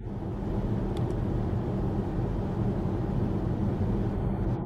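Steady, full-bodied road and tyre rumble fills the cabin of a Kia EV6 AWD electric car cruising at 50 km/h. It stays even and continuous throughout, with no engine note and a faint brief tick near the start.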